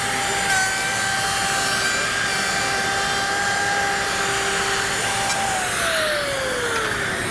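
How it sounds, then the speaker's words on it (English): Festool KA 65 Conturo edge bander running steadily as it trims and radiuses edge banding, a continuous motor whine with a steady pitch that drops near the end. "so this is going to trim it and radius it at the same time."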